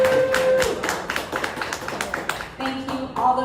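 Audience applause at a live AI-themed event held at SoFi, a steady wash of clapping from a sizable crowd lasting a few seconds, with a voice speaking faintly over the last part.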